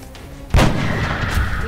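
A single sniper rifle shot in XCOM: Enemy Unknown cracks out loud and sudden, then rings off into a long, rumbling tail.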